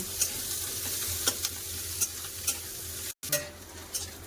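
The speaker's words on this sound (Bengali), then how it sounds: "পেঁয়াজটা খুব ভালো করে ভেজে নেব" Sliced onions fry in hot oil with black cumin seeds and green chillies, giving a steady sizzle broken by a few scrapes of stirring and a brief pause near the end.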